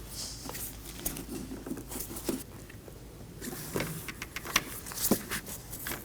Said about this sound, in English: I'm just going to use a trim tool to pop this out.